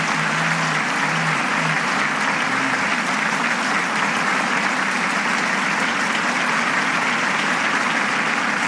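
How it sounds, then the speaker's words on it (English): Loud, sustained applause from a large audience at an international peace conference in South Korea, a dense continuous roar of clapping that stays steady throughout, with no voices on top. "join me in offering a round of applause to the Mother of Peace, Dr. Hakja Han Moon"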